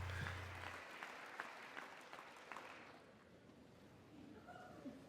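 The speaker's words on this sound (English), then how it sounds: "are they applauding" An audience at a State of the Union address applauds steadily, heard through a broadcast, and the clapping fades to a quieter room murmur partway through.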